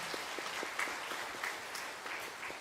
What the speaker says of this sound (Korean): 우리 박수로 환영합니다